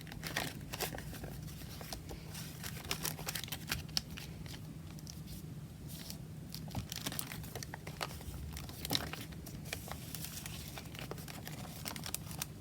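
Thick tape being pulled, torn and pressed onto a junk-art piece, giving a steady stream of close crinkling and crackling with sharp tearing bursts and a faint hum underneath.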